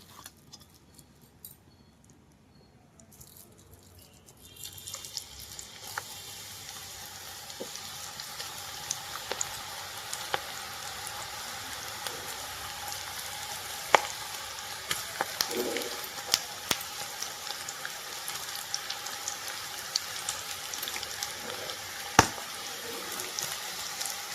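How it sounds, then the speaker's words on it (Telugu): Onion pakoda batter dropped into hot oil, starting quietly and then building into a continuous crackling fry with scattered sharp pops that runs steadily to the end, with no speech. "నూనె వేడయ్యిందండి పిండి కూడా మనకి ఒక ఐదు నిమిషాల పాటు ఇట్లా నానింది చూడండి ఒకసారి మొత్తం కలిపేసుకొని నూనెలో వేసేద్దామండి"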